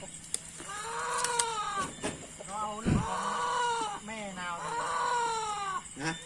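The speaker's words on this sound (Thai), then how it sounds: "ไก่ตัวเมียครับ" Chickens on a farm call out in a series of drawn-out, wavering clucks and squawks, fairly close, with people talking intermittently nearby.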